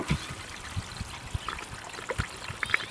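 A toilet in a truck camper flushes, its leaking valve letting water trickle and dribble with small irregular splashes and drips, close by and fairly quiet, with no voices.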